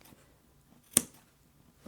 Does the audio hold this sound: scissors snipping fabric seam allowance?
yes